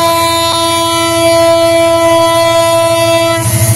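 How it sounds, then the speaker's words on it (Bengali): A long train pulls toward a station with a loud, sustained horn blast close by, its steady tone running over the rumble of wheels on track. "এই যে সামনে স্টেশন, যার কারণে ঘন ঘন হর্ন মারতেছে সামনে স্টেশন দিকে।"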